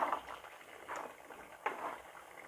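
Ghee rice made with jeera samba rice being stirred in a pot, three soft scraping, sloshing strokes spaced about a second apart, fairly quiet and with no speech.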